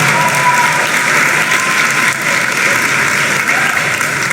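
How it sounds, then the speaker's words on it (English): An audience gives loud, dense, sustained applause for scholarship winners at a dance competition's nationals, steady and close throughout with no speech. "Big round of applause."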